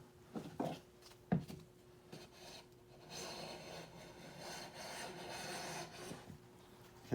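Hand plane shaving thin curls from a wooden board, partly against the grain, a few sharp scrapes early on followed by a long steady rasping pass, close and fairly quiet.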